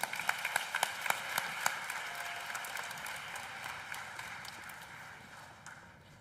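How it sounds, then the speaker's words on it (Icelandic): Audience clapping after a family Christmas nativity play, a burst of scattered, fairly close hand claps that thins out and fades over several seconds, with no talk. "En við skulum klappa helgileiknum sem að Væp samdi."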